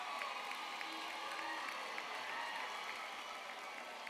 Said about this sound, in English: let's give a big round of applause for our graduates